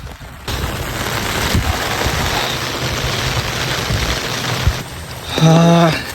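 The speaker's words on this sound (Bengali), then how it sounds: "ওই দিকে কী জোরে বৃষ্টি হচ্ছে দেখো" Heavy rain pours down outdoors in a village, a loud dense hiss of drops hitting surfaces that starts abruptly and holds steady, with a brief tonal sound near the end.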